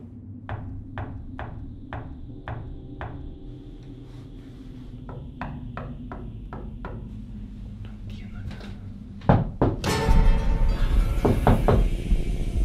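Knuckles rap on a hollow wall panel hidden behind a furniture unit in a house, a steady series of sharp resonant knocks, then heavier thumps and clatter as the furniture is handled, with faint voices around.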